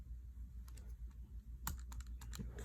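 Rapid key presses on a calculator keypad, a quick run of soft clicks that clusters into a dense burst midway, heard close and alone over a low steady hum.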